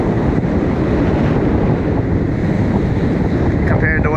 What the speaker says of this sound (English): The waves have calmed down.